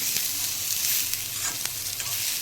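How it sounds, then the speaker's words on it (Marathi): Steady sizzling and frying of tomatoes in a pan, with occasional scrapes and stirs, continuous and close, with no talking. "टॅमॅटो घालायचं आणि दोन मिनटं परतून घ्यायचं"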